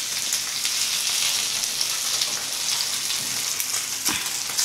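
Sea fish frying in oil on a flat tawa, a steady, loud and close sizzle that continues throughout with a few brief pops and no talking.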